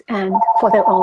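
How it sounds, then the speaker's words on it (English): A mobile phone rings with a steady electronic tone running beneath a person talking nearby, close and fairly loud through the short moment. "Sorry, I have to, that's my phone"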